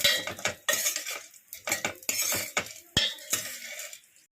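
Popcorn corn kernels stirred in a pan, scraping and clattering in uneven bursts with sharp clinks of the utensil against the metal, close and fairly loud, with no voices.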